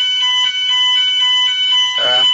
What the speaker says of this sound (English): I'm sorry, we have fire alarm here.